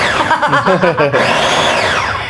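An electric blender grinds Thai curry paste ingredients for a bamboo shoot and red ant egg curry, a short whirring burst that shifts pitch as the load changes, then winds down as the motor slows.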